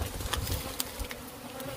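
Bees buzz around a hive in a building, a dense close swarm drone with individual insects zipping past the listener, loud and continuous with no voices.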